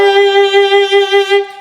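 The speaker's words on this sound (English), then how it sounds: "When we press really hard, we get a vibrato that might sound like this." A single sustained note on violin or viola played with the finger pressed hard on the string, giving a narrow, tight vibrato; close and clear, alone, fading at the end.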